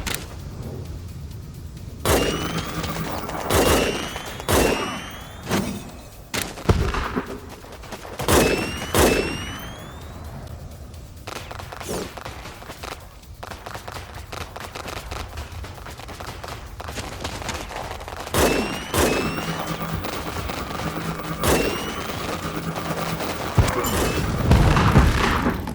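Sniper rifle fire in the strategy video game WarPips: sharp booming shots at irregular intervals, some spaced seconds apart, over a steady low battlefield din, with no talk.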